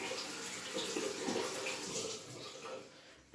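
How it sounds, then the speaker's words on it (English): Running water pours steadily over an egg as it is rinsed at a bathroom sink, a close, even hiss and splash that cuts off sharply at the end, with no voices. "I'm going to rinse that off some more."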